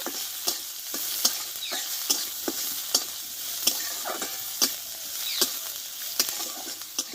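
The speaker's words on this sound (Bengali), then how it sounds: "পেঁয়াজটাকে ভেজে নেব" Chopped onion fries in a pan with nigella seeds, a constant soft sizzle punctuated by regular, rhythmic scrapes of a spatula stirring roughly every half second.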